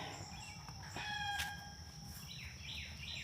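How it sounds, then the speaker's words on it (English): Birds chirp and tweet in the morning outside by a driveway, a scatter of short calls over a faint steady background. "we're a little loud up there this morning, birds."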